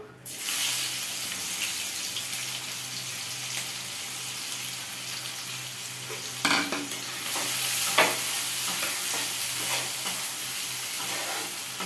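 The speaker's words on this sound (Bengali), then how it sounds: "পেঁয়াজ দিলাম, এবার আমি লাল লাল করে একটু পেঁয়াজটাকে ভেজে নিই" Onions frying in a pan for a meat dish give a steady, close hiss of sizzling oil, with a couple of stirring scrapes partway through.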